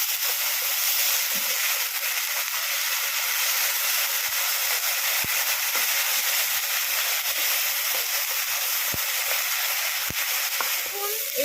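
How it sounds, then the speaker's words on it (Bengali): Ground spice paste of ginger and garlic with garam masala frying in oil for egg korma, a dense continuous sizzle with a few faint stirring knocks. "বাটা মশলা আর গরম মশলা দেওয়ার পরে ভালো করে নাড়াচাড়া করে ভেজে নিয়েছি"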